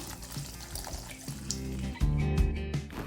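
Water runs and splashes while a mixer jar is rinsed and tamarind water is poured into a spicy Kerala mackerel curry, a steady close trickle that swells louder near the end.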